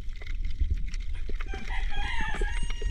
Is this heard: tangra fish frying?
no